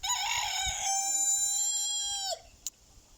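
A rooster crows loudly and close by, one long drawn-out call that breaks off, followed by a faint click.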